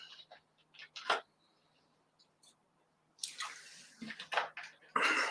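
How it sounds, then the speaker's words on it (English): Quiet drinking of water, with a few soft gulps and sips, then lip smacks and small mouth noises, close to the microphone in a quiet indoor room. "I'm gonna drink some water"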